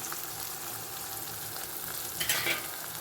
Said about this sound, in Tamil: இப்போது நம்ம எடுத்துருக்க மஞ்சத்தூள், வரமிளகாய், குழம்பு பொடி எல்லாத்தையும் அதில் கலந்துக்குவோம்